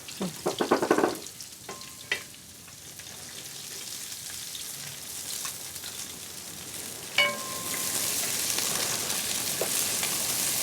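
Small onions (shallots) frying in a pan, a soft steady sizzle with a few clinks of a utensil at the start and a louder hiss building near the end.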